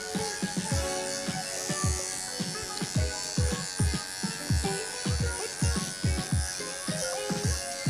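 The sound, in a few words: electric clippers shaving a standard poodle's face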